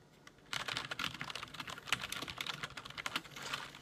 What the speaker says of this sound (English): these are quieter keys. They're not as noisy as your Cherry Blues. I believe this one is MX Browns.